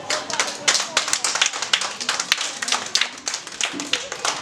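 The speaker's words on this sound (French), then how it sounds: "Acclamez très fort." Kindergarten children clapping for their school in a lively, uneven patter of small hands, loud and close, with sharp individual claps standing out and some voices mixed in.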